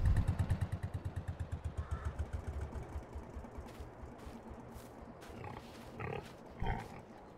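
Pigs grunting in the Farming Simulator 22 video game, a rapid rhythmic series of low grunts that starts loud and fades over several seconds, followed by scattered snorts and clattering squeals later on.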